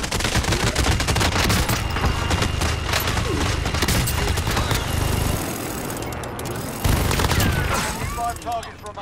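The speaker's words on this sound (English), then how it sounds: "Precision airstrike, take cover!" Precision airstrike in the Call of Duty Warzone video game: dense, loud rapid explosions and gunfire crackle continuously in a chaotic barrage, with a brief lull near the end before the blasts resume.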